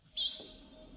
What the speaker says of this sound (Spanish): se puede escuchar el coro del amanecer de los pájaros perforando el aire de la mañana